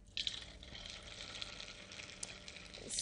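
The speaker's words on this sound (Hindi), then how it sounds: "तो हमारे तेल गर्म हो चुका है, आइए इसमें चिकन के जो पीस है वो फ्राई कर देते हैं।" Chicken pieces drop into hot oil and sizzle steadily, a sudden hiss at the start settling into a continuous bright crackle close by, with a few louder pops.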